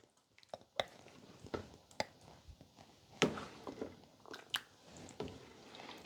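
Thick tomato sauce from a small 8-ounce can being stirred into simmering homemade spaghetti sauce, a run of soft wet squishes and slurps at an uneven pace, close and quiet, with no talking.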